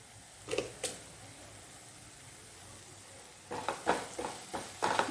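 Masala is stirred into chicken gravy in a pan: a few sharp scraping strokes near the start, a quiet pause, then a run of rhythmic spoon scrapes over a faint frying sizzle, close and moderately loud.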